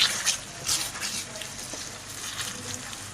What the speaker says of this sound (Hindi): अब अच्छे से इसको हम मिक्स करेंगे